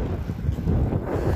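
Steady wind buffeting a microphone outdoors at a public market in Al Wakrah, a low continuous rumble with gusty swells throughout.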